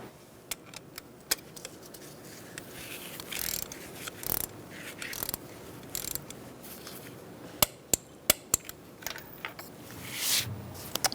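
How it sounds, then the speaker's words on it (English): A torque wrench tightens a spark plug on a 2012-2017 Hyundai Accent 1.6L four-cylinder, giving scattered sharp metallic clicks and ratchet ticks, some in quick clusters, over quiet handling noise with no talking. "you're going to torque it to 21 foot-pounds"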